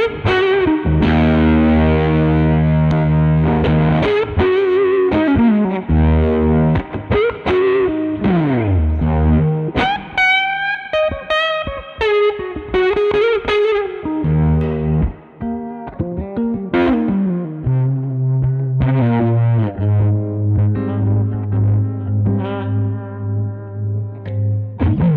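Electric guitar run through a reverb plugin effect, sustained distorted notes and chords blooming into a washy tail, loud and steady throughout with a few melodic runs and held tones.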